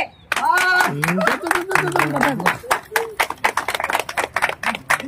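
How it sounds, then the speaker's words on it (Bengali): Claps break out into applause from a small crowd at a Saraswati Puja medal ceremony, rising over a voice that speaks at the start. "জোরে একটা হাততালি"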